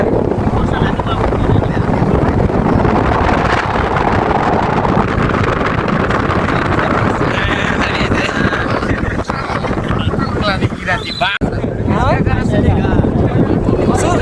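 Strong wind buffets the microphone in a constant roaring rush, with voices talking faintly beneath it.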